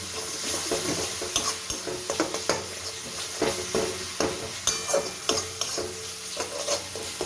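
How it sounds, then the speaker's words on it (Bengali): Turmeric and coriander powder are stir-fried in a pan for an aar fish kalia. Oil sizzles steadily while a spatula scrapes and knocks against the pan in irregular close strokes. "হলুদ আর ধনে গুঁড়ো এবার এগুলো দিয়ে আমি ভালো করে কষিয়ে নেবো মশলাগুলো"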